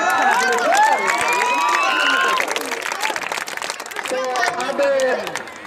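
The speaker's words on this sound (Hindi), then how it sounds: "ताली दीजिए आप लोग" A crowd claps at a cricket team's prize-giving as a shield is handed over, with steady applause beneath loud amplified announcing and cheering and shouting from the crowd throughout.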